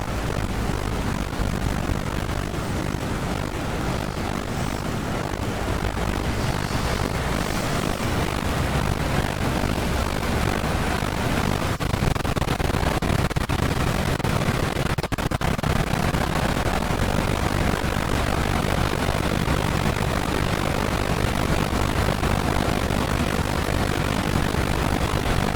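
A WW2 propeller aircraft in a flight simulator drones steadily as it flies over a Guadalcanal airfield, a loud continuous engine roar with no talk.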